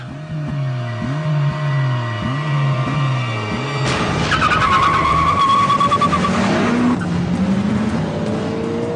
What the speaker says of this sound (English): let's see how this new car gets on in a race. against its dad.